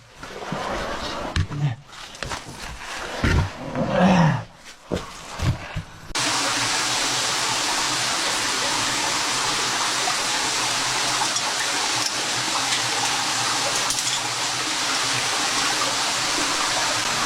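Steady, loud rushing of falling water fills most of the clip, preceded by a few seconds of muffled handling thumps and bumps.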